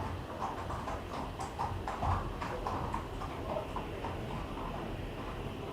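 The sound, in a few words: horses' hooves clip-clopping on cobblestones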